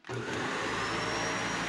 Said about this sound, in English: The WEIZE 12-volt, 100-amp-hour lithium iron phosphate battery power a full-size vacuum cleaner.